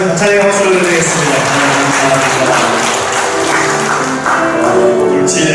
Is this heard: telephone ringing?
no